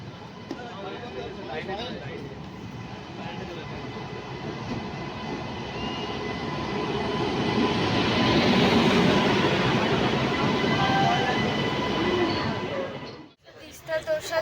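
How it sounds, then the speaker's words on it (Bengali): The Teesta Torsha Express rumbles at a station, a continuous rail roar that builds and swells toward the middle before fading, with a voice talking faintly underneath and a brief thump near the end. "তিস্তা তোরসা ছাড়লো, ট্রেনে উঠে গেছি।"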